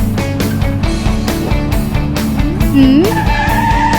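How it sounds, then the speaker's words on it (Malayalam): A car drifting in a video game, its tires skidding with a rising screech near the end, heard over continuous layered game music and engine tones. "ഇതിൽ നമുക്ക് ഡ്രിഫ്റ്റ് അടിക്കാൻ പറ്റുമോ നോക്കാം."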